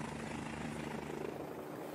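A rescue helicopter hovers with its nose pressed to a snowy mountain slope, rotor blades skimming the snowpack, giving a steady, loud, unbroken rotor roar with no voices.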